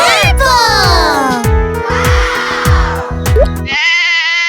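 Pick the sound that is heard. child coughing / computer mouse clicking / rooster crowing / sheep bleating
sheep bleating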